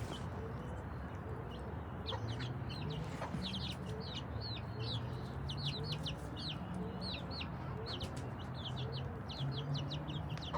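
Chickens on an organic chicken farm cluck and chirp steadily throughout, many birds at moderate distance over a constant low background hum, with no talk.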